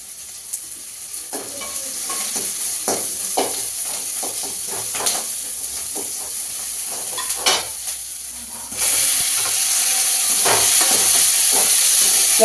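Green chillies sizzle and crackle in hot oil in a pan while a potato masala for poori is made, a steady close frying hiss with scattered pops that grows louder near the end.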